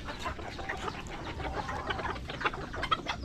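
Mixed farmyard poultry in a rural province yard, Chinese chickens with a pair of ducks and geese, cluck and call in a busy, continuous jumble of overlapping squawks at close range, with sharper honks and bursts standing out now and then.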